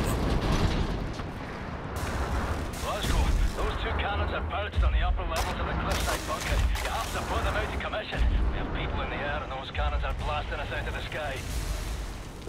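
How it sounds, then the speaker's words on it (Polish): Heavy explosions of grenades and bombs in the video game Wolfenstein: The New Order, with rumbling blasts filling the scene repeatedly while a person talks over the constant din. "wybuch bomb w tym pokoju zawalił podłogę"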